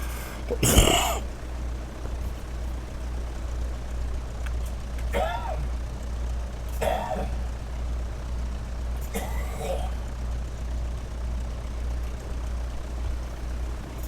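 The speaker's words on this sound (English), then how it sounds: "Trying to cough too much this morning." Several rough coughs and throat clearings come at spaced intervals inside a small aircraft cockpit, the first loudest, over a low, steady engine hum.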